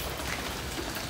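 Rain falling on a garden during the rainy season, a steady, even hiss of drops that stays faint and constant throughout with no voices.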